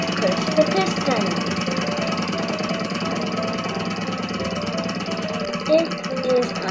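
A small Stirling engine heated by a flame runs steadily, giving a continuous close whirring hum with fine mechanical ticking and a couple of brief louder bumps.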